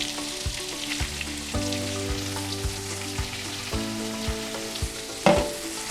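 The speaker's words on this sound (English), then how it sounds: "We're gonna saute this." Black fungus mushrooms and garlic sizzle steadily in a hot pan. A music-like tonal hum runs underneath, and one louder clatter near the end.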